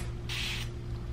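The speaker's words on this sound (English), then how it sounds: "Yeah, look at that spray." Curly Girl Vibes Flarisol hair spray bottle misting once, a short close hiss of about a third of a second over steady room hum.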